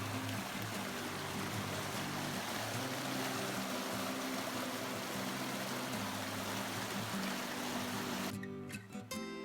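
A small mountain creek at high elevation rushes and gurgles close by in a continuous wash of water noise, with a brief rustle or clatter near the end.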